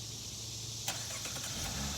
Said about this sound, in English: Got a neat feature called remote engine start.